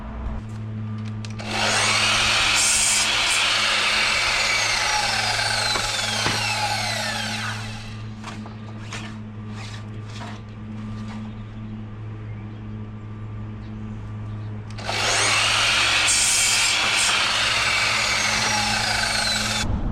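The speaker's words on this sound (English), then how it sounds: "now I'm going to go cut my cladding for this frame" A power saw cuts timber cladding boards to length, making two loud, close whining cuts separated by a quieter stretch of motor run-down and light knocks of wood.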